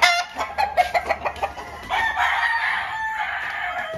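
Chickens and a rooster on a small ranch with poultry for sale: a run of close, sharp clucks in the first two seconds, then a loud, drawn-out crow that fills the rest, with no talking.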